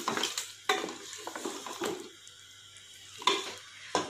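Cooked, tender mutton for shorba in a pot as a cup of oil goes in: close clattering stirs and scrapes of a spoon against the pan over a soft, steady sizzle, with a few sharper knocks and a quiet lull in the middle.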